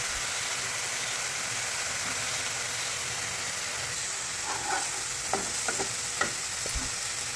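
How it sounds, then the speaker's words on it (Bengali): Paneer kalia masala sautéing in a pan, a steady dense sizzle with occasional scraping strokes of a spatula toward the end, close and continuous with no talk. "এবার এটাকে বেশ ভালো করে কষিয়ে নিতে হবে"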